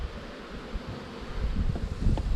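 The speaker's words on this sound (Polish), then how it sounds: "pszczółki sobie spacerują po mnie, wiatr ich nosi" Honeybees buzz around an apiary in the wind, a steady close hum of insects mixed with wind noise and soft rustling.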